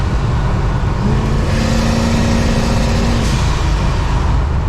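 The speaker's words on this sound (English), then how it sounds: "Is it hitting a rev limiter? That's what it sounded like." A turbocharged 1983 Chrysler Cordoba engine drones loudly and steadily, revving with a sustained high tone that holds and then cuts off, like bouncing off a rev limiter, recorded close.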